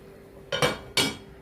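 A utensil knocks twice against a pan while beef tongue with black pepper is stirred, giving two quick, bright metallic clinks, close and alone.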